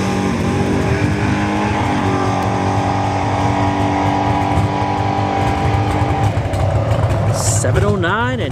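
A Chevrolet Malibu G-body drag racing car accelerates at a dragstrip test-and-tune session, a loud, sustained engine roar filling the whole stretch while an announcer talks over it.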